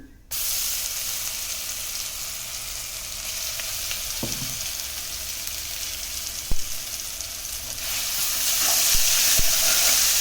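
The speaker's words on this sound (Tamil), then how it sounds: "எண்ணெய் ஊற்றிட்டு பட்டை கிராம்பு இந்த கரம் மசாலா போட்டுக்கலாம் போட்டுட்டு இஞ்சி பூண்டு பேஸ்ட்டு போட்டுக்கலாம்" Ginger garlic paste with cinnamon, cloves and garam masala frying in oil for pepper chicken roast, a steady hissing sizzle that swells toward the end, with a few sharp utensil taps, close and without talk.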